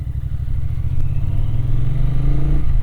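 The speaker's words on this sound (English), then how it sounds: "All thanks to engine braking" A motorcycle on the road slowing under engine braking, its engine holding a low, steady burbling drone with a slight pitch drift, loud and close, with faint clatter and no speech.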